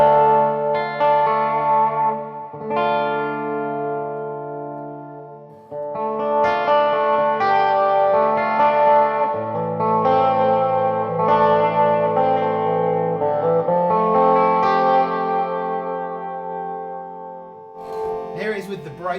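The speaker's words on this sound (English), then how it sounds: "go for quite a sort of deep reverb sound" Electric guitar, a Danocaster single cut, played through a Todd Sharp JOAT 20 amplifier with deep reverb: sustained chords and melodic notes ring out with long echoing tails before a brief pause and a final strum.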